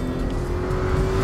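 Porsche Cayenne S SUV diving hard into a corner, a brief steady engine drone with tire and road noise, heard close from inside the car.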